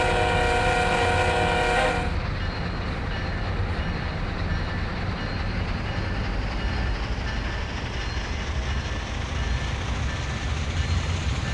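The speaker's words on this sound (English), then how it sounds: "Let's go ahead and take our eyes forward to a couple honks of the horn." A Norfolk Southern ES44AC locomotive in the Train Sim World 2 game sounds one loud sustained horn blast for about two seconds, followed by the steady low rumble of the train alone.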